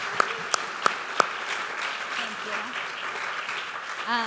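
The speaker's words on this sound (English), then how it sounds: "Give her a round of applause." Audience applause after an introduction at a music-industry event, a steady broadband wash of clapping lasting several seconds, with a few sharp nearby claps at the start and a voice briefly at the end.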